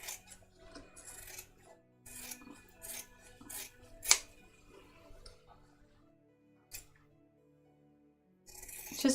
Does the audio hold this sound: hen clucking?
no